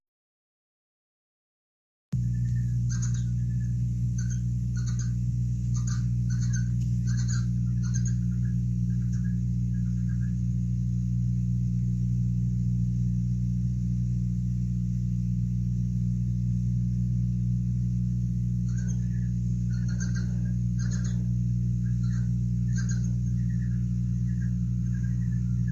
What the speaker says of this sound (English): The young birds actually chirp in the eggs, and this first hatchling and the young in the eggs are chirping back and forth to each other.